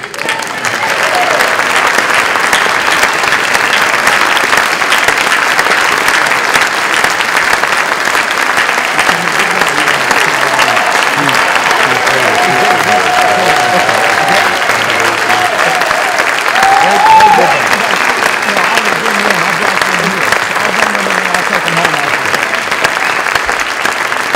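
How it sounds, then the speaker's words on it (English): An audience at a book release event gives a long, sustained round of applause, dense clapping filling the room throughout with a few faint voices beneath. "One more round of applause."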